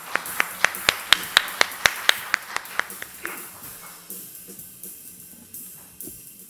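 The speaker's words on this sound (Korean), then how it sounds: "따뜻한 박수로 맞이해 주십시오" Brief applause at a carbon-neutrality conference for the semiconductor industry, welcoming the committee chairman to the podium: a run of sharp, fairly close claps that thin out over about three seconds, then a quiet room with faint murmur.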